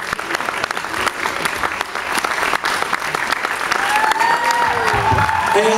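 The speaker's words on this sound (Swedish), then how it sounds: "Stor applåd för Julle!" Loud applause and cheering from a festival crowd at Hemmesta Festival, sustained clapping that swells toward the end, with some tonal whistling or feedback and a voice faintly audible through it.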